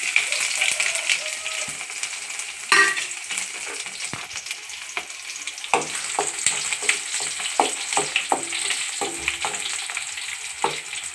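Garlic and popped mustard seeds fry in hot oil, crackling and sizzling softly with sharp spitting pops and the clink of a stirring spoon against the pan.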